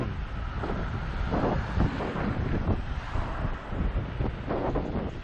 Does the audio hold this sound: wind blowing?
yes